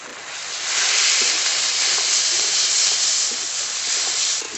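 Spice paste of ginger, garlic, coriander, cumin and dried chilli fries in oil for a pangas fish curry, giving a steady loud hiss and sizzle that runs unbroken, with no voices over it.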